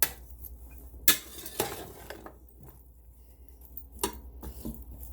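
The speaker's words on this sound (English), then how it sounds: "I'm going to give it a good stir." Sausage and vegetables stirred in a Ninja Foodi pan, giving a few sharp utensil scrapes and clinks against the pan over a quiet background.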